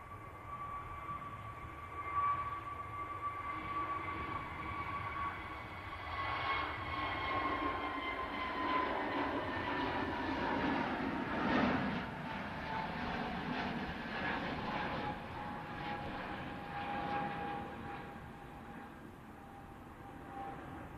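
An Egypt Air airliner taxis out at Manchester Airport for departure to Cairo, a steady distant engine whine and rumble holding over a long stretch, swelling slightly midway.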